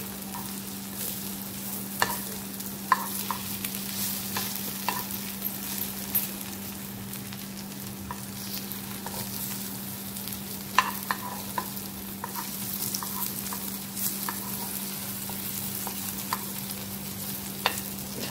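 Aluwadi rolls made from colocasia leaves shallow-frying in a little oil, giving a soft continuous sizzle with scattered pops and light stirring clicks, close by and with no talking.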